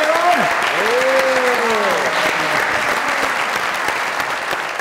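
A studio audience at a comedy talk show claps loudly and steadily, a dense continuous roar of hands, while a host talks over it.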